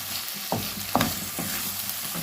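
Tomato and onion frying in a pan with little oil, a close steady sizzle punctuated by two or three quick spatula stirs.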